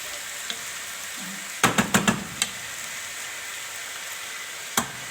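Rice is stirred in a cooking pot over a faint sizzle, with a quick cluster of scraping knocks from the spoon against the pot and a final single knock a few seconds later.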